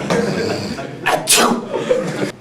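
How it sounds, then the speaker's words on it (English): A single sneeze from a football player during a high school senior tribute, loud and close, with a sharp burst after a brief breathy lead-in. "Sorry for sneezing"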